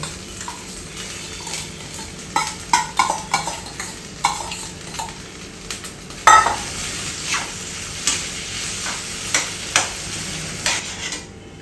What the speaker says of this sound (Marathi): आता आपण यामध्ये तयार झालेला भात घालायचा आहे